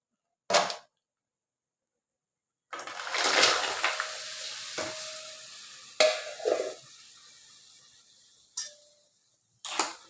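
Dumplings go into hot oil in a home kitchen pan, raising sharp bursts of sizzling: a brief crackle, then a long loud hiss that slowly fades, followed by a few shorter sizzles, with quiet gaps between.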